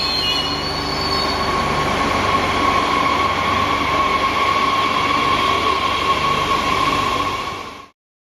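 A train runs along the rails in France, a continuous loud rumble with a sustained metallic wheel squeal and steady rolling noise, ending abruptly with no voices.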